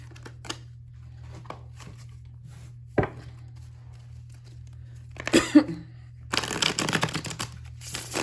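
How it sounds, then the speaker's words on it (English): Tarot cards are shuffled near the microphone, with soft taps and a burst of riffling toward the end over a low steady hum. "Let me just give it a quick shuffle."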